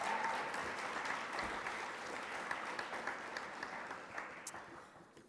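Audience at a university Black History Month kick-off gives a round of applause for living-statue performers, a dense, sustained wash of clapping with a few sharper claps near the end.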